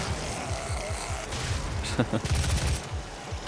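Bursts of rapid gunfire from the video game DOOM (2016) rattle over a steady, heavy in-game rumble, with a denser flurry of shots in the middle.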